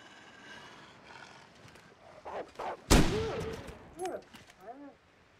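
A single sharp, loud gunshot from the survival game The Long Dark cracks out on icy ground. Low animal growls and calls come before it and after it.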